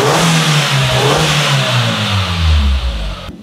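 An Audi A3 engine revs up hard close by, a loud rising and falling roar that surges near the end before dropping off, with no talking.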